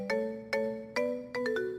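A phone ringtone plays on its own, a bright repeating electronic melody in several sharp bursts, each note attack followed by a slow decay, moderately loud and close.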